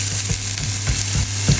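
Onions sizzle and fry in a pan while cooking asparagus spaghetti, a steady crackling hiss with soft stirring scrapes and a low hum running underneath, no talk.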